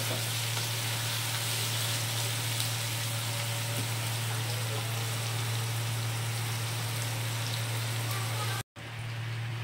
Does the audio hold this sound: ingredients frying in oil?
yes